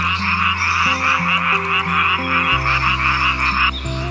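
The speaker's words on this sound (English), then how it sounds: "The frog hopped free with a happy croak." A frog croaks in rapid, buzzing pulses over a gentle pond scene, with sustained tonal music stepping underneath. The croaking is loud and continuous throughout.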